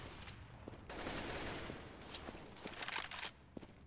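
Rifle in CS:GO firing in 3-round burst mode, with rapid clusters of gunshots and a steady background rumble, moderately loud but a bit distant.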